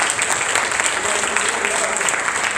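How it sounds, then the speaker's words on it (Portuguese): A church congregation applauding during a healing service, a steady dense wash of clapping with crowd murmur and voices mixed in throughout. "você está curado por Jesus nesta noite, então aplauda o nome dele e diga: obrigado, Senhor, porque eu estou curado."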